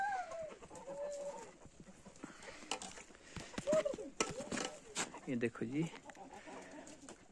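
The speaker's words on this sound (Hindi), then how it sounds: "कड़कनाथ मुर्गे," Kadaknath chickens cluck and chatter nearby in short bursts in a snow-covered garden, with someone briefly speaking over them.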